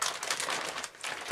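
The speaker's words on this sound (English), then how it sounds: "I've got an elasticated suit on that keeps making really loud crinkling noises" Crinkling and rustling of a DuPont Tychem F CBRN protective suit as the wearer moves, a close, continuous papery crackle lasting about a second.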